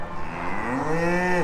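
A single cow or calf in a pen lets out one long, loud moo that rises and then cuts off sharply, heard close with no talking.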